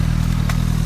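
BMW motorcycle with an Akrapovic exhaust idling or running close by, a loud steady low engine throb with rhythmic pulsing and a brief bright clatter midway.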